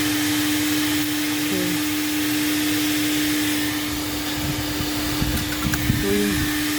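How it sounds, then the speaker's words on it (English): A coin-operated car wash vacuum cleaner drones loudly and steadily throughout, a constant roaring whine with a few faint clicks and handling bumps near the end. "Let's start the vacuum."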